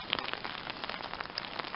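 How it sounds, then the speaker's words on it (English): Rain falls steadily on a hard surface, a dense, even patter of drops with occasional sharper splashes, fairly close and continuous with no voices. "It's acid rain."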